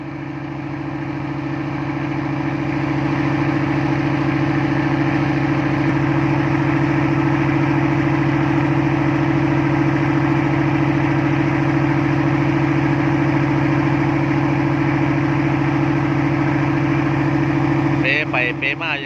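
A fishing trawler's engine runs steadily at Pattani river mouth in the Gulf of Thailand, a loud continuous low drone with strong steady hum throughout, close and unbroken for the whole stretch.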